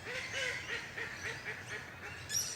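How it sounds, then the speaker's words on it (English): A steady run of nasal honking calls from a group of ducks and geese on a lake, repeated quickly and continuously at a moderate distance. "Ducks and waterbirds."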